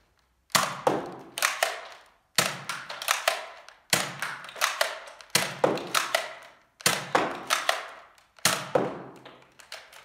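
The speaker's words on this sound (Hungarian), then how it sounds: "És kilőttem 6 darab lövedéket rendes módszerben" A Nerf N-Strike Elite Strongarm blaster fires six darts one after another, each shot a sharp close snap and thunk, with a mechanical rattle of the cylinder between shots and brief silences.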